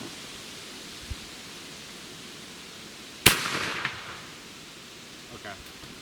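A single sharp gunshot from an 1853 rifle cracks once near the middle, loud against a steady outdoor background hiss, with a short decaying tail and no talking.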